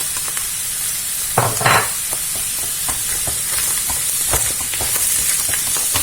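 Chicken filling with parsley stirred in a hot frying pan for chicken cigars: a continuous sizzle with repeated scraping strokes of a utensil, one louder hiss burst partway through, close and without talking.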